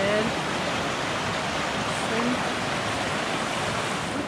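A mountain river on a Great Smoky Mountains trail rushes nearby in a steady, dense wash of water noise that stays even and unbroken throughout, with no voices clearly heard.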